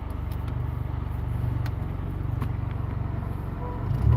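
A Honda Accord engine held at full throttle in drive with the parking brake on, a loud steady low drone and rumble close by, with a slight swell at the end.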